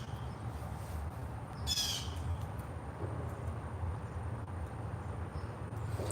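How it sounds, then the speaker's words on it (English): A blue jay gives a single harsh squawk at medium distance over a low outdoor hum, with faint scattered chirps around it. "Yep, that's a blue jay for sure."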